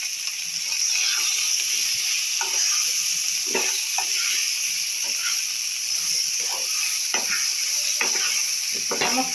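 Mixed vegetables seasoned with salt and turmeric frying in a pan for Bengali pui shaak chorchori: a steady close hiss of sizzling oil with intermittent stirring scrapes and crackles throughout.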